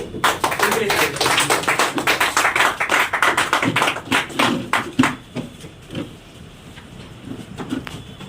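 Audience applause at an RCM Business seminar, a loud run of claps that fades and thins out toward the end.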